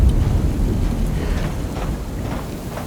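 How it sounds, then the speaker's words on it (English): Steady rain pours with a low rumble of thunder in the horror video game Alone in the Dark, loud and continuous, with no voices. "it's just a bit of harmless rain"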